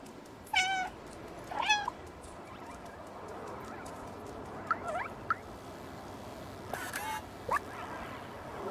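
A cat in the video game Stray gives several short, high meows in separate bursts over a steady background hum of game ambience.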